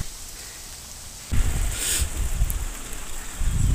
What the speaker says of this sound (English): And it's raining in the dog's bowl.